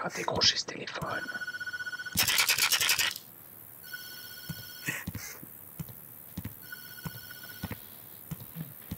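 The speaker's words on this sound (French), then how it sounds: "Je ne vais pas décrocher ce téléphone." A telephone rings in the horror video game Tattletail, a repeating electronic bell-like trill in bursts over several seconds, heard under bursts of loud game noise and someone talking.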